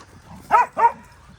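A dog gives two quick, sharp barks close by while playing keep-away with a toy.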